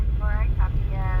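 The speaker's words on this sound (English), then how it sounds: "Where's that helicopter going?" A helicopter passes over a Los Angeles street at night as a steady, low, droning rumble, with voices talking over it throughout.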